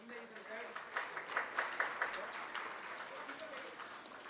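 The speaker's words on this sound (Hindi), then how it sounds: "जोरदार तालियां।" An audience at an MSME business summit applauds, a soft patter of clapping from a distance under an announcer speaking over the hall's sound system.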